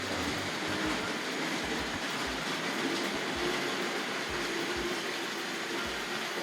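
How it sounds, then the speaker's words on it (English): A Tri-ang R.56 Baltic tank model locomotive hauling first-series TC coaches runs around a layout, its wheels clattering over newly laid points in a steady rhythmic clickety-clack, close and continuous. "It's a little bit clattery over that new point I put in the corner there."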